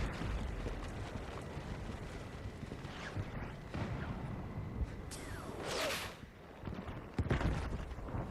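Tank cannon fire and explosions in Battlefield 6, booming blasts at about three, five to six and seven seconds over constant rumbling battlefield noise.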